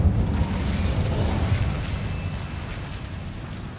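Incendio fire spell cast in Hogwarts Legacy, a loud whooshing burst of flame that opens sharply, then rumbles and crackles before slowly fading away.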